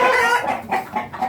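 Chickens cluck softly in a raised poultry coop, a short burst of overlapping nasal clucks close by with no other sounds.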